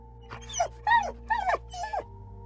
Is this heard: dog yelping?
yes